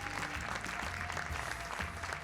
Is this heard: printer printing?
no